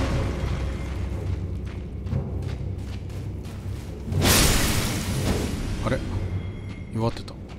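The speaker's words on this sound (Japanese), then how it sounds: "また爆発する？" An explosion in the Elden Ring video game on PS5 bursts suddenly as a loud, broad boom that decays over about a second, set among game sounds and people talking.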